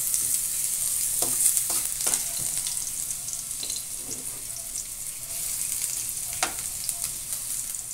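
Ginger sautéing in a pan as the start of a chicken soup, a steady bright sizzle throughout with a few sharp clicks of a utensil against the pan, close and continuous without talk.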